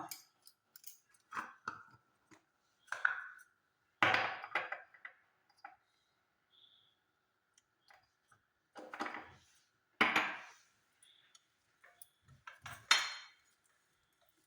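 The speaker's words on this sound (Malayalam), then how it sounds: "നന്നായിട്ടൊന്ന് മിക്സ് ചെയ്ത് കൊടുക്കാം" Chilli powder, coconut oil and turmeric are mixed in a bowl, heard as intermittent close spoon scrapes and clinks against the bowl separated by quiet gaps.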